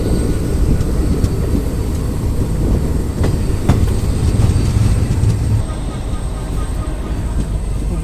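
A train rolls into Balurghat station, its wheels rumbling and clattering on the rails with brief metallic squeals and clicks, loud and close, easing toward the end.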